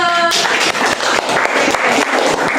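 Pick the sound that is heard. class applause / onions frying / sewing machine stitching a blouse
class applause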